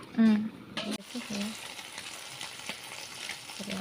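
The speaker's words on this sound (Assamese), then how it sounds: "মাছ ফ্ৰাই কৰি আছে" Fish frying in a pan, a continuous close sizzle and crackle with occasional stirring, and a brief voice near the start.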